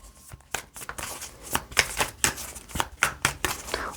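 A tarot deck gets shuffled in a rapid run of close, crisp card riffles and soft taps that come in uneven bursts across a quiet room.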